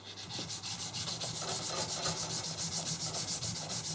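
Wet and dry paper sands around the edge of a cast pig-faced coat hanger in quick, regular back-and-forth strokes, soft and close, with no voices.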